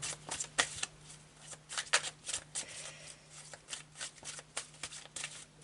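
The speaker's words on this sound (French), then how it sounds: "je vais demander quelques cartes du coup de tarot pour illustrer encore un petit peu ce tirage" Tarot cards being shuffled by hand: soft, quiet riffles and slides repeat in irregular bursts over a low steady hum.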